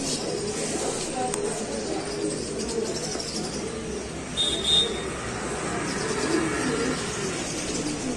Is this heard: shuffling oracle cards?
no